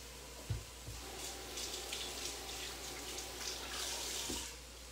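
Kitchen sink tap runs while hands are washed, a soft, fairly distant stream of water with a few light knocks and splashes, quiet and without talk.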